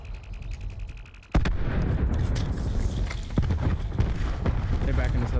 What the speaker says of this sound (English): He's throwing a nade.